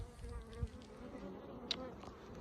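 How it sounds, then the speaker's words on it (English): A continuous low buzzing hum of honey bees being shaken from a swarm into a Langstroth hive box at an apiary, faint and steady with a couple of soft knocks. "I'm going to shake the bees into the Langstroth box over there."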